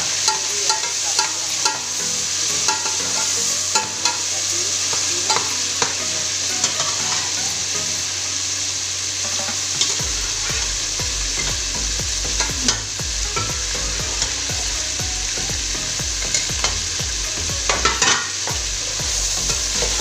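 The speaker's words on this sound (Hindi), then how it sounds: "अब इसको भूनने अच्छे से।" Mutton and tomatoes being stir-fried in a pan for Afghani pulao, with a steady loud sizzle and repeated scraping stir strokes throughout, close up and without talk.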